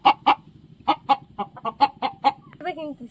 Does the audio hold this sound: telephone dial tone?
no